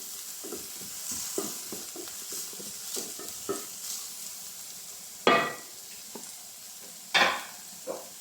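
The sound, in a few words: sautéing chopped spring onion in pan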